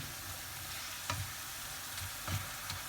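Minced chicken with onion and pepper frying in a pan, a soft steady sizzle with a few scraping stirs and clinks of a utensil, no talking.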